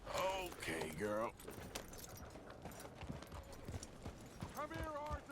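In Red Dead Redemption 2, a horse's hooves clip-clop in an uneven rhythm under loud character dialogue and other game sounds.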